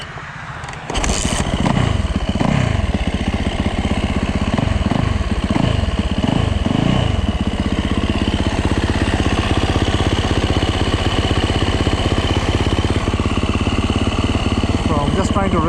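A Yamaha YZ450F four-stroke dirt bike starts up and settles into a loud, steady, close idle in snow, with a few throttle blips early on before it holds a constant rumble.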